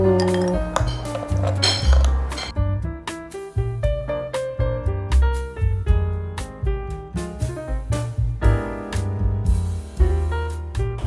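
Ice cubes clink and knock against a glass as they drop into a freshly made sweet drink, a loud close run of bright repeated pings and clatters.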